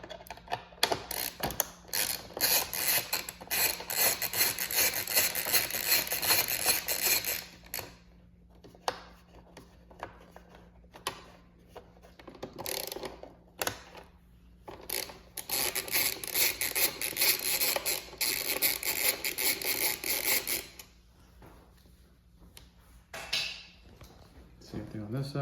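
Ratchet backing out 4 mm Allen screws on a 2021 or later Aprilia RS 660, heard as long stretches of rapid close clicking broken by pauses, with a steady low hum under it and no voice over the ratcheting.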